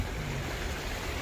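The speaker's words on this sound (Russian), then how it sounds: "очень большие потоки воды стекают в него" Strong floodwater streams pouring through a flooded resort street in Anapa: a dense, steady broadband rush and roar of flowing water, loud and close, with no voices.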